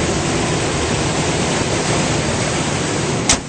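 A 2010 Toyota Tundra Double Cab with TRD package and leveling kit idles steadily with its hood up, a smooth, even broadband engine rumble filling the clip, with a brief sharp click near the end.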